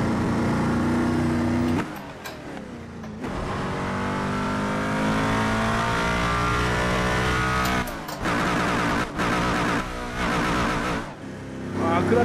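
A kei truck tuned to 1266 hp in a racing simulator game, its engine howling at high revs with a slipping clutch, loud and sustained with brief drops in pitch during shifts and short gaps.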